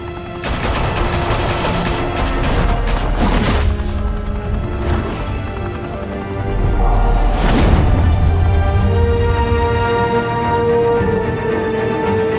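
Heavy gunfire in Batman: The Telltale Series: dense bursts of rapid shots and loud booming impacts roll on almost without a break, loud and close, with no speech.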